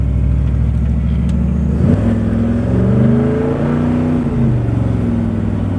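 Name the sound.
truck accelerating hard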